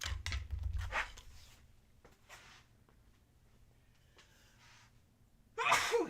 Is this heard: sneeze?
yes